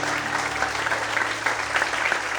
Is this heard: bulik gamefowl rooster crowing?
no